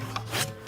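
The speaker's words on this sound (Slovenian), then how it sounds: "Žage so pele in dleta so plesala." Hand saws and chisels work wood in a school woodworking shop in Postojna, giving short rasping, scraping strokes in a few quick bursts over a steady low background hum.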